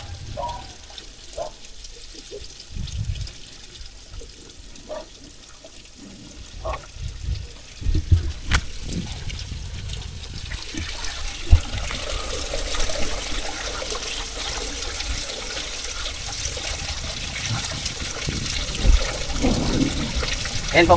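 Water trickles and flows steadily at a farm fishpond, fairly faint at first and growing fuller toward the end, with occasional splashes and small knocks.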